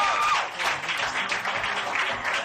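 Applause from a comedy club audience as a comedian is welcomed to the stage, a brief burst of dense clapping with some vocal whoops.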